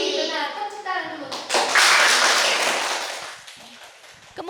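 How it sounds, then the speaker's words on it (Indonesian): A group of children in a classroom claps their hands together in a burst of bright, loud applause after someone speaks at the start; the clapping swells, then tapers off. "tepuk tangan dulu"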